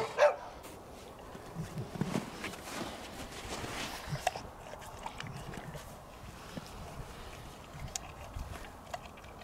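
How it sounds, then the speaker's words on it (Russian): A neighbor's dog barks a few times in short bursts amid village outdoor ambience with scattered footsteps and rustling; no one speaks. "Соседская собака."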